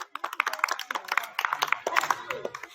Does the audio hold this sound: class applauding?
yes